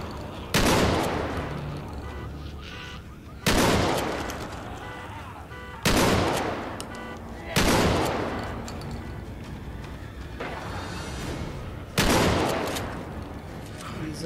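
Loud weapon gunfire in the video game The Walking Dead Survival Instinct: five sharp, heavy shots spaced a couple of seconds apart, each with a decaying tail and quieter game ambience between them.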